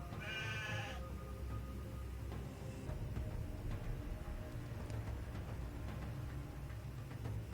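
In an RPG Maker VX Ace game, a sheep gives one brief, high bleat at the start. After that, a steady, dense game background sound carries on for the rest of the clip.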